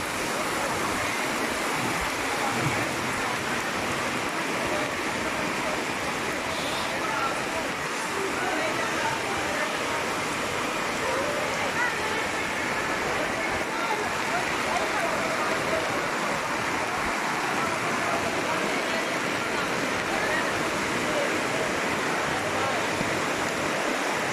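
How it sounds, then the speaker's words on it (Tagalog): Heavy rain pours down during a flood in a dense, unbroken roar that holds steady from start to finish. "walang tigil ang ulan"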